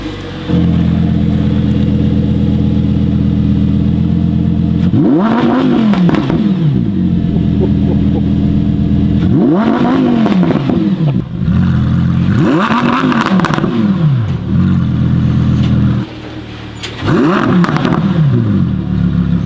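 Crew cars and an Audi R8 rev hard over a steady idle, with four loud, rising-and-falling engine bursts spaced through the stretch and no talking.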